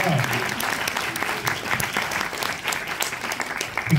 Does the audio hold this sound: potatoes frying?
no